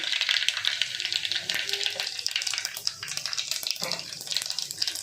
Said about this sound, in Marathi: तेल गरम झाले की आता त्याच्यामध्ये जिरं टाकणार आहे